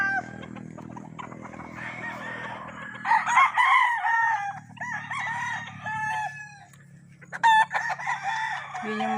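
Gamefowl roosters crow several times in a row at close range, the calls overlapping in a busy yard with faint clucking and low background noise.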